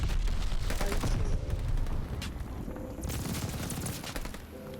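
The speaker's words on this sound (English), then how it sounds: "Yeah, STG shredded this range, man." STG44 rifle fire in the Call of Duty: Vanguard video game, heard as dense rapid bursts of automatic gunfire that are loud and near, with overlapping shots and distant battle noise behind.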